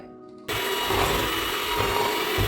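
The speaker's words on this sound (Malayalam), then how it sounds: "ഇനി നമുക്കിത് നന്നായിട്ട് ബീറ്റ് ചെയ്യാം." Butter is beaten for brownie batter made from a Kaufland boxed mix. After a quiet half second, a loud, steady whirring starts suddenly and keeps going close by, with no voices.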